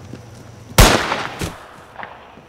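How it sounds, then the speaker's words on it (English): A single loud gunshot bang used as a scene-transition sound effect, a sharp sudden crack followed by a decaying tail and a couple of fainter echoing thuds, with no talk. "You can use the gunshot sound to transition you into the next scene, using that bang and then moving us into the next scene like this."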